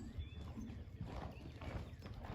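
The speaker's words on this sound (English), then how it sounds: "Let's get this horse moving again." A horse walking on the ground during a horsemanship session, hooves clip-clopping in a steady, soft rhythm, close by but fairly quiet, with no voices.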